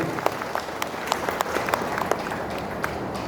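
An audience claps for Prime Minister Modi, a dense, steady round of applause from many hands filling a hall, with sharp individual claps standing out throughout.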